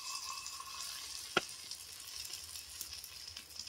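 Batter dropped into hot oil as a test while frying a crispy snack made from leftover rice, a steady close sizzle with one sharp click partway through.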